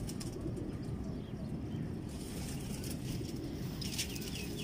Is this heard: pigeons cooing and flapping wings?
yes